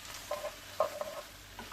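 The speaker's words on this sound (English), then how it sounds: "You can hear the sizzle." Beans stirring in a hot pan, a soft scrape of the spoon with faint, brief sizzling bursts over a quiet background.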